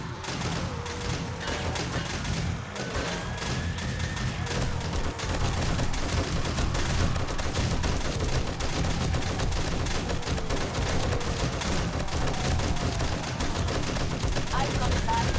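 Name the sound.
base guns shooting at enemies in 7 Days to Die video game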